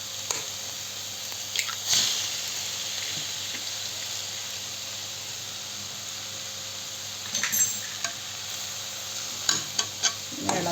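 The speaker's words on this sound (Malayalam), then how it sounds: "ഇത് നന്നായിട്ട് ഇളക്കി കൊടുക്കാം" Agathi flowers and beaten egg cooking in a pan for a thoran, with a soft steady sizzle under occasional scraping stirs and a few sharper clinks of the spatula against the pan.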